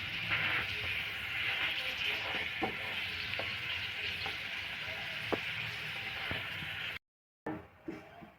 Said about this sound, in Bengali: এরকমভাবে একটা করে সব ভেজে নেব।